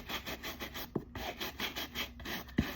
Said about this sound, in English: just keep scrubbing it a little bit